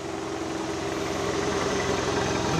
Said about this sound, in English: You can hear the exhaust is good.